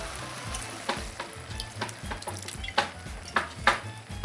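Sherry glugged into onion, celery and garlic frying in a pan for peppery mushroom soup, giving a steady sizzle with repeated sharp scraping and stirring strokes and a few louder crackling bursts toward the end, no voices.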